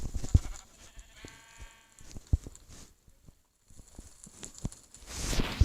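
Blocky Minecraft sheep bleat in short wavering calls amid game sounds, a few soft bleats standing out over quiet clicks and footstep thumps, with a louder rush at the end.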